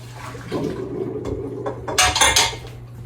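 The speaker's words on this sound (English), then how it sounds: "Just gonna give this a quick stir." Food being stirred in a cooking pot for a creamy chicken penne bake, with utensil scrapes and clinks against the pot that grow louder toward the end, over a steady kitchen hum.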